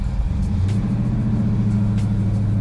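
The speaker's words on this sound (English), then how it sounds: "Let's go ahead and put it in gear. We'll drive it normally first." A 1970 Chevelle with a big block engine and mild shift kit drives in gear, its low steady engine rumble droning continuously and close, with no talk over it.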